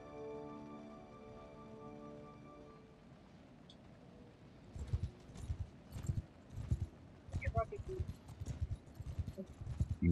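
Cavalry horses gallop in Mount and Blade II: Bannerlord with a Warhammer-inspired mod, a rapid irregular drumming of hooves that grows louder after a quiet musical opening.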